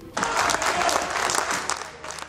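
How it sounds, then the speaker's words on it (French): Sustained, dense applause fills a provincial assembly chamber, steady and loud from start to finish after a brief quiet opening. "Son discours empreint de pédagogie a suscité des applaudissements nourris dans l'hémicycle"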